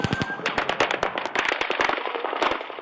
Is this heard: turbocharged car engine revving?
no